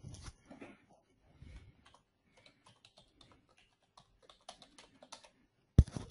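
Keys on a computer keyboard tapped in short bursts while entering a project name, light irregular clicks spread across a few seconds in a quiet room, with faint talk early on and one sharper click near the end.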